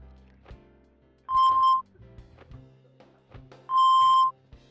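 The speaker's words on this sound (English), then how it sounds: "The beeps are way louder in this cutscene than normal" Two loud, sustained electronic beeps sound in a cutscene of the video game Deadly Premonition Origins, spaced a couple of seconds apart among quieter background game sounds.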